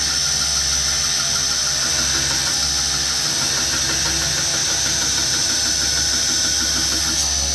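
Steady, loud grinding of a round bar knife against an aluminium oxide grinding wheel, a continuous high whine with a low motor hum running underneath, unbroken throughout.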